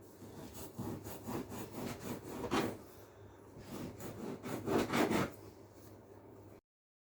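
A knife cuts kenafa dough into pieces about a centimetre wide, making repeated rasping, scraping strokes in an irregular rhythm, close by, and then stopping abruptly.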